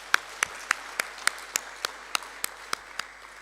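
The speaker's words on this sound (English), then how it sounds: "He deserves another round of applause" Conference audience applauding a speaker, heard as a string of sharp, evenly spaced claps that come about three or four times a second and stay moderately loud, with no talk over them.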